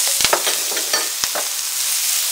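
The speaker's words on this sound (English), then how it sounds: "you want to let these sear a bit" Spanish onions and chopped garlic searing in butter for ossobuco, a steady close sizzle broken by a few sharp scrapes and clacks of a spoon stirring the pan.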